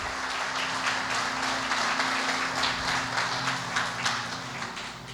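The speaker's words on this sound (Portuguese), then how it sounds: "Pode aplaudir." A church congregation applauds during a sermon, a dense and steady wash of clapping with a low hum underneath and no talk over it.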